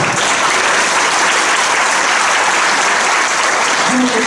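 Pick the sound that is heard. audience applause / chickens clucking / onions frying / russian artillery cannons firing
audience applause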